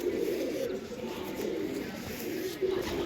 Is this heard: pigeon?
yes